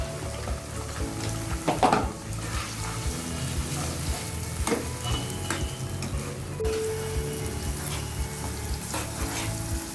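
Chopped onions, half a cup, frying in the oil left over from frying chicken for a home-style chicken roast, with a steady close sizzle and crackle throughout and occasional stirring scrapes.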